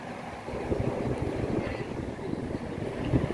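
Strong wind roars steadily across the microphone at the Peak Tower lookout, a constant low rumbling buffet with no voices.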